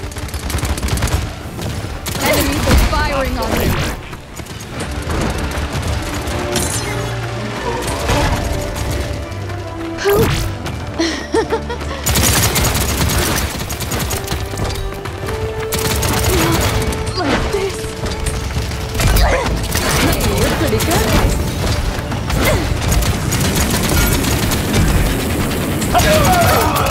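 Enemy gunfire in the Paladins video game comes as dense, continuous bursts of rapid shots mixed with crashes, booms and mechanical clatter, loud and close, with in-game voices speaking over it.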